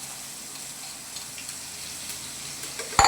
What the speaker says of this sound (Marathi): लसूण तेलात तळून हिरवी मिरची टाकायची. हिरवी मिरची, जिरी, हळद, मीठ तेलात तळून घेतल्यावर